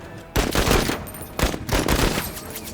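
Gunfire in the video game Menace: two loud, rapid bursts of automatic fire close together, the first about half a second long and the second longer, with a short pause between them.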